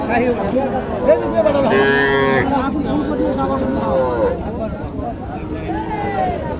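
A five-month-old Sahiwal calf moos at a crowded cattle market, a drawn-out nasal call rising over steady background chatter and nearby voices.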